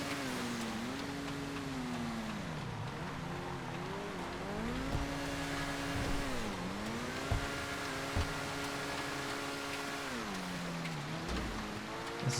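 A supercar in a GTA FiveM race, its engine droning steadily and loud, pitch rising and falling through gear changes and corners, with a few thumps and tire noise underneath and no talk.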